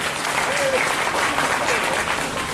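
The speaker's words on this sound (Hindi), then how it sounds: "एक बार जोरदार ताली से आपको स्वागत कीजिए।" Dense, steady applause from an audience welcoming a guest at a public gathering. It fills the whole stretch as a loud, continuous wash of many hands, with no break.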